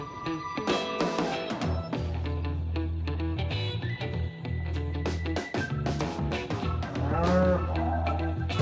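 Cattle moo loudly and repeatedly, deep drawn-out calls overlapping from several animals close by, with a steady low drone throughout.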